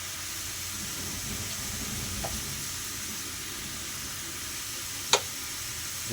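Pumpkin frying and being stirred in a pan, a steady soft sizzle running throughout with a faint clink partway and a sharp utensil tap near the end, no talking.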